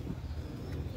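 A pigeon coos softly and continuously close by, a low murmuring call over faint background noise, with no talking.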